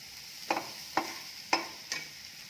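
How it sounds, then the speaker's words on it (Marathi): Chopped onion sautéed in oil for a brinjal bharit, with four evenly spaced scrapes of a spatula stirring the pan over a faint, steady sizzle. "आता हे कांदा परतून घ्यायचा आहे तेलावर"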